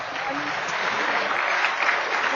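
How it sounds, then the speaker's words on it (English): A dense, continuous wash of applause from a conference audience on democratising information and the rule of law, even and fairly loud throughout the short stretch. "Give him a round of applause."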